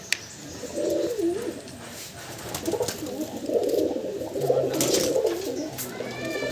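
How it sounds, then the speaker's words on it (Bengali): Fancy pigeons kept for sale in a loft coo steadily in soft, rolling bursts close by, layered over one another with a faint background murmur throughout. "পায়রা সেট আপটা আপনাদেরকে একবার দেখাই"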